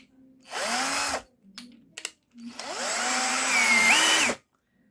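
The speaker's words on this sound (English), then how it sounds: "Now let's do some wood drilling with this machine." A JPT 21V cordless drill with a keyless chuck bores into wood with an 8 mm bit in two bursts, a short run and a longer one, its motor whine rising and bending close by.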